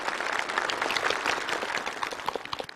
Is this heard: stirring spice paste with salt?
no